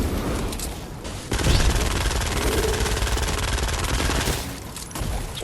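A submachine gun firing in Fortnite Save the World, a dense rapid stream of shots lasting several seconds, loud and close, with brief pauses at the start and end.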